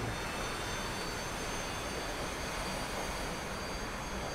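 A T-45 jet engine in the DCS flight simulator whines and roars steadily as it spools up under throttle, a loud continuous turbine drone with no talk.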